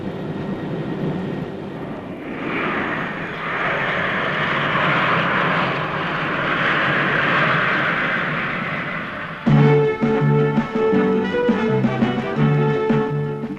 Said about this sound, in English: We hope you enjoy flying with us over the North Pole to Japan.